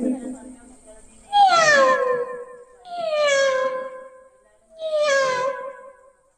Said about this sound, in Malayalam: അതിനകത്ത് പൂച്ച കരയുന്നു.